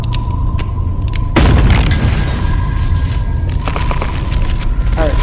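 Gunfire in the VR game Animal Company's circus update: a single heavy boom followed by a sustained burst of loud crackling shots over background game noise, with players talking around it.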